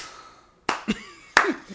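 Two short bursts of hand claps, close and crisp, separated by a brief pause in a quiet room, with a voice murmuring faintly between them.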